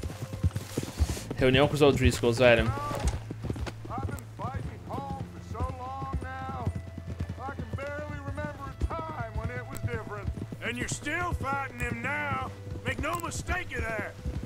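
Rhythmic hoofbeats of a horse galloping in the video game Red Dead Redemption 2 keep a steady pace. Talk runs over them almost constantly, from both game characters and a Portuguese-speaking player.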